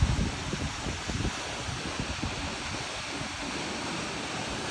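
Mac Mac Falls, a twin waterfall in Mpumalanga, South Africa, gives a constant broadband rush of falling water, steady and moderately distant with no voices over it.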